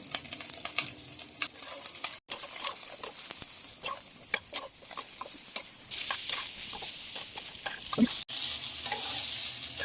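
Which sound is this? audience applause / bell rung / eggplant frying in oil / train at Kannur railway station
eggplant frying in oil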